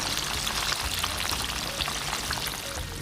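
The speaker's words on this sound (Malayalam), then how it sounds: "നമ്മുടെ ചിക്കൻ റെഡി ആയിട്ടുണ്ട്, നല്ലോണം ഫ്രൈഡ് ആയിട്ടുണ്ട്" Chicken pieces deep-frying in hot oil for a honey nut crunch dish, giving a steady, dense crackle and hiss that runs without a break for the whole stretch, fairly close, with no voices over it.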